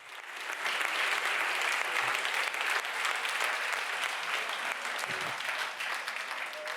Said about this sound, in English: now I will applaud you